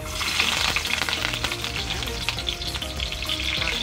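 Garlic fries in hot oil in a heated pan for chicken liver and gizzard adobo, giving a loud, dense, continuous sizzle with sharp popping splatters throughout.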